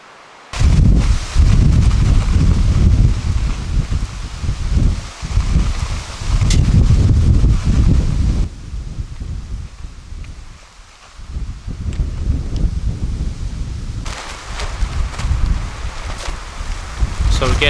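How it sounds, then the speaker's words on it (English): Strong gusts of wind buffet a military arctic tent, roaring loudly and steadily with rustling and flapping throughout, easing briefly midway before building again. "So we're getting a bit gusty winds"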